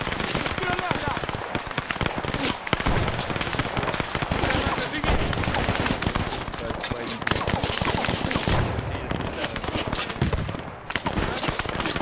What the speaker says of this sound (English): There's the bombs dropping.